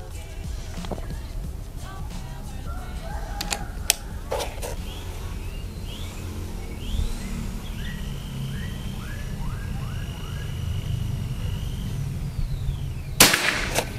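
Several sharp PCP air rifle shots from a Predator Tactical with folding stock, short cracks spaced apart over an outdoor background, with a louder crack near the end; birds chirp faintly in between.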